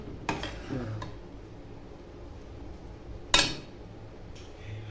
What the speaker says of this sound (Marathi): कोथिंबीर टाकल्यावरही चांगलं असं हलवून घ्यायचं भाजी मिक्स करायची